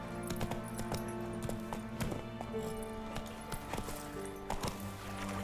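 Roach the horse galloping in The Witcher 3, with steady repeated hoof clip-clops close and loud, a brief whinny partway through, over a constant game music bed.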